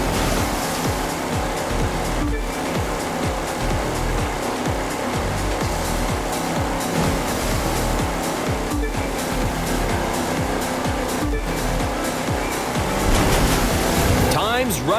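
Racing vehicles in The Crew 2 on PS5 launch over a ramp and splash into blue water, with a constant wash of surf and engine noise running under energetic commentary throughout.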